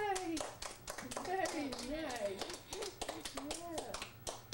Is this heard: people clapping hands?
yes